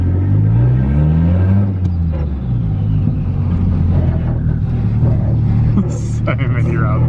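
A Mitsubishi Evo fitted with a 4G93 SOHC turbo engine drives along, its steady engine drone and low rumble loud and close throughout, with brief revving rises and a person talking over it.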